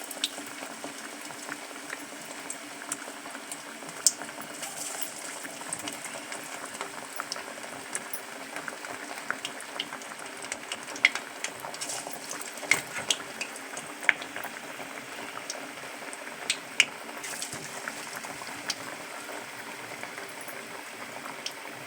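Moong dal vada batter frying in hot oil; a steady, close bubbling sizzle with scattered small pops and crackles running throughout, with no talk.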